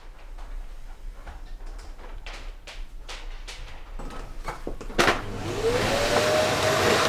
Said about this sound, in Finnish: Et ala imuroimaan tähän aikaan.